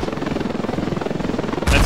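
Helicopter in the video game Ravenfield, a steady rhythmic rotor chop holding close and loud, then a sudden louder burst of noise near the end.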